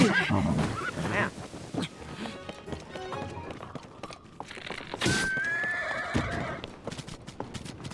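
A horse in an open world video game whinnies loudly and its hooves clip-clop, with several neighs and galloping steps in a short, busy burst.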